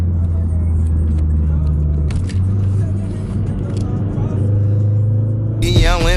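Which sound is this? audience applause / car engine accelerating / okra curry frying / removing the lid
car engine accelerating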